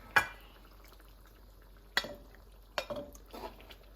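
A spoon scoops New Orleans BBQ shrimp and spicy butter sauce from a pan after the heat is off, giving a few sharp metallic clinks spaced apart over a faint low simmer.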